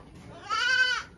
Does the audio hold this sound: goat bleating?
yes